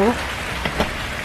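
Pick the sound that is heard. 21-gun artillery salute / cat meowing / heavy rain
heavy rain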